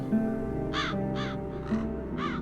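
Crows caw in The Dark Eye: Chains of Satinav, four harsh calls spaced about half a second apart over a low, steady ambient drone.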